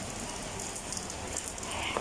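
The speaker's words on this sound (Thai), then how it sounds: "ที่นี่ตกหนักเลยนะครับทุกคน" Heavy morning rain patters steadily on surfaces nearby, a soft, even hiss of drops with no one speaking.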